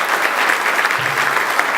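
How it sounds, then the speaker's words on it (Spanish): Loud, dense audience applause at a public accountability event held by a legislator for Morona Santiago, sustained clapping from a large crowd with no speech over it. "el doctor Roberto Villarreal, para quien solicito también un fuerte aplauso."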